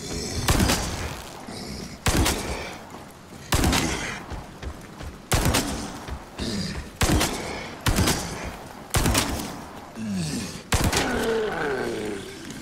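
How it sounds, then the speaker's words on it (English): CQBR rifle in Resident Evil 4 Remake fires eight loud, evenly spaced single shots at a Brute, each a sharp crack, with grunts and roars from the creature between the shots. "So 8 shots from the CQBR to take down a Brute with full upgrades."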